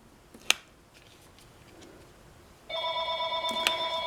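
A house telephone rings with an electronic trilling tone that starts partway through and repeats steadily, preceded by a sharp click and a quiet room.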